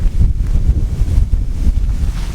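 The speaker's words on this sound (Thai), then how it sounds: "เห็นไหมครับว่าแค่ลมมาขึ้นมานิดเดียวนะครับ มันหอบหอบแรงมากนะครับ" Wind buffets a Naturehike Star River 2 tent at an outdoor campsite, a loud, continuous low rumble of gusts pressing on the fabric and microphone, with no talk.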